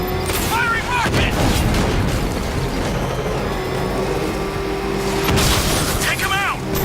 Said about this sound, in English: Firing rocket!